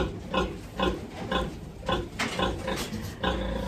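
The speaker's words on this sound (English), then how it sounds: "Do you hear that sound that sow's making? The kind of the grunt sound?" A sow gives soft, rhythmic low grunts in quick repeated bursts, calling her piglets to nurse, steady and close, with a faint farmyard background.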